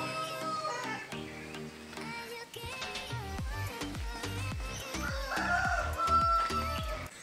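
Tamil Nadu breed roosters crowing on a farm, their calls mixed under loud rhythmic background music that runs throughout.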